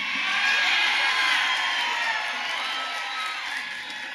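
A large crowd yells and cheers continuously, a dense wash of many voices with whoops and shouts, loud and sustained for several seconds before easing slightly toward the end.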